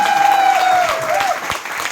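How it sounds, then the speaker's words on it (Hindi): Audience applause at a Safe Shop business gathering, a dense wash of clapping that rises steadily then fades slightly toward the end, with a sustained tonal whistle or feedback line running through the first half. "जोरदार तालियां बख्शे जी"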